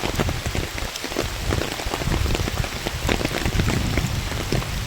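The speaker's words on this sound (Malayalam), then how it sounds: "നല്ല മഴയാണ് കേട്ടോ കനത്ത മഴയാണ് ഇവിടെ" Heavy rain pours steadily onto the surface at a temple pond, a dense, even roar of close drops that continues without pause and with no voices.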